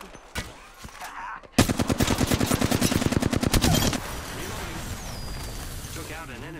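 Rapid enemy gunfire in a shooter video game: a dense burst of automatic shots runs for a couple of seconds, loud and close, with game voices around it.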